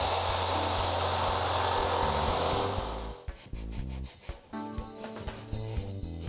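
Jigsaw cutting openings in a kitchen base cabinet panel: a loud, steady rasping buzz for about three seconds, then it stops, leaving scattered knocks, shuffling and faint rattles.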